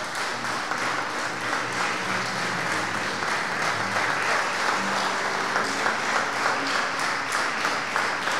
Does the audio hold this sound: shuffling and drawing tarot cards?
no